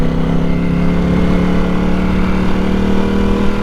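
A Ducati Panigale V4S motorcycle engine runs in street mode with a steady, loud mid-pitched drone, holding an even note throughout with no talk.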